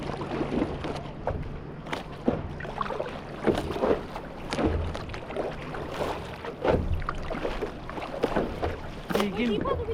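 Paddles dipping and splashing as a small boat is rowed at Paleokastritsa, irregular close water strokes and knocks with people talking over them and light wind in the background.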